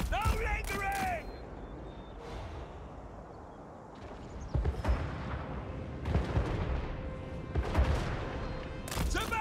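Volleys of musket gunfire crackle across a Total War Warhammer 3 battlefield, bursts of shots and booms scattered irregularly between shouted voices and battle noise.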